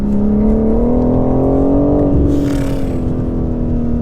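A 2020 BMW M4 Competition accelerates hard on a public road, its engine note rising loud and close in a strong, sustained pull with a brief rushing whoosh midway.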